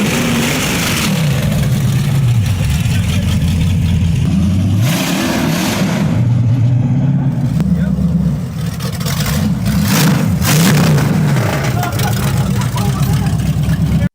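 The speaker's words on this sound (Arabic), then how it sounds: "أكيد صوت المحرك عالي جدا" A modified car engine revs hard and loudly during a test run, with sustained roaring that rises and falls, and a voice talks over it.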